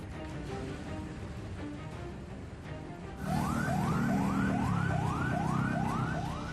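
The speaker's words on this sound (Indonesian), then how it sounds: "Puluhan mobil pemadam kebakaran dikerahkan." Distant traffic hum, then a loud fire engine siren cuts in as fire engines respond to a building fire, wailing in rapid repeated rising sweeps over a rumbling engine.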